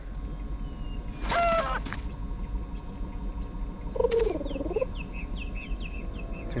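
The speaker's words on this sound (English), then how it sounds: "We have to listen to that annoying bird again" Two bursts of a shrill, warbling bird call from the adventure game A Final Unity, the first around a second and a half in and a second sounding later, each short and loud over a steady hum of game ambience with faint chirps.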